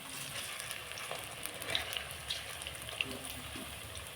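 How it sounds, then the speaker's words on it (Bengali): Besan-battered potato and cabbage pakoras fry in hot oil, giving a faint, steady sizzle with light crackles and pops. "উল্টে নিচ্ছে, লাল লাল হয়ে ভাজা হয়ে যাচ্ছে"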